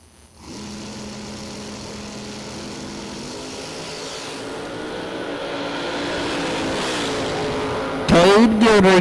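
Drag race cars, including a 1968 Camaro, launching at a Texas drag strip event, a loud sustained engine roar rising in pitch over several seconds before a sharper burst of revving near the end.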